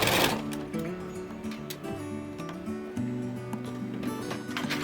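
A sewing machine stitches through multiple layers of quilted fabric in short bursts, its motor hum shifting pitch as it starts and stops, close by with no talking.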